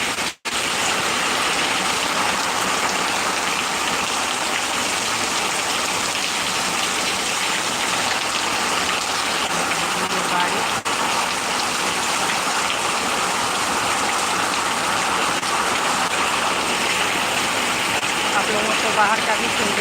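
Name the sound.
heavy rain falling in Bengal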